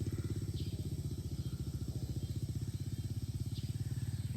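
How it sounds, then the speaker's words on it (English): A vintage Honda XL250 dual-sport motorcycle with a cut-open, hogged-out muffler idles loudly nearby in a steady, throbbing rapid pulse that runs throughout, without speech. "I guess the muffler's been cut open. Hogged out or whatever. It's a loud bike"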